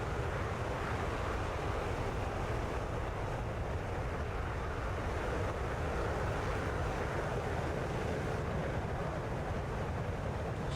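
F-15E Strike Eagle jet in a flight simulator game, flying clean at high altitude near Mach 1: a steady, loud, broadband roar of engine and rushing air that holds unbroken throughout.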